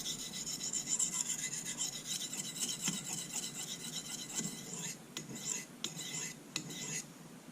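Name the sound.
kitchen knife sharpened on a soft Arkansas whetstone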